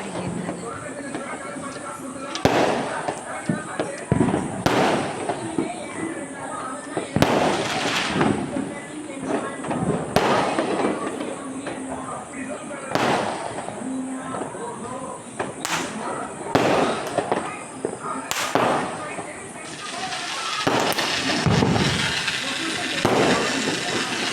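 Repeated fireworks, including ground fountain fireworks, crackle and boom at irregular intervals over a constant hissing background in a neighbourhood, some loud and close, others fainter.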